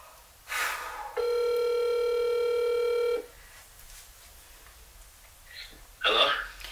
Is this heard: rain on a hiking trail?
no